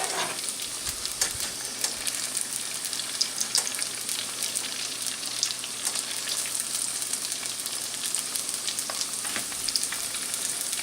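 Continuous crackling sizzle of egg rolls deep frying in hot oil, dense and steady with occasional louder pops, close up and without voices.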